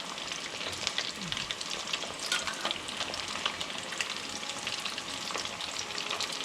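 Potatoes for Sindhi aloo tuk crisping in very hot oil give a steady, dense sizzle with crackling bursts that run unbroken throughout, close and fairly loud.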